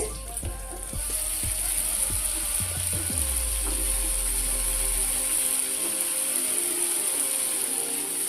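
Tomato gravy simmers in oil in a covered pan for a mushroom curry, giving a steady close sizzling hiss, with a few light clinks and thumps of utensils early on.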